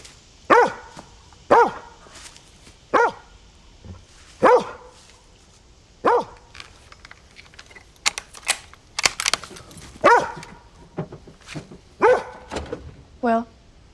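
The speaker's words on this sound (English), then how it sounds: "always accompanied by their dog, Stanley." In a scene from the horror film It Comes At Night, a dog barks sharply in a string of evenly spaced barks followed by a few irregular ones, with typing-like clicks and other sounds in between.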